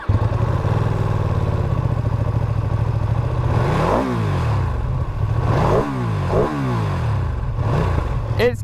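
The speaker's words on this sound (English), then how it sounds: "Just gonna start her up, see if you can get a vibe for the sound of the exhaust." A Ducati Streetfighter V2 motorcycle engine runs with a loud, steady exhaust rumble, blipped up in several sharp revs that fall back to a burbling idle, close to the microphone and with no voices.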